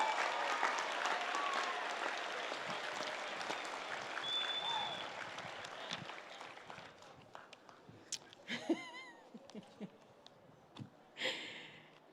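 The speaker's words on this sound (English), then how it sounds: "Let's give that a huge round of applause." Crowd applause for graduating high school students at a stadium ceremony in Hillsboro, Oregon, loud and sustained for about seven seconds, then thinning into scattered claps, whoops and murmuring voices.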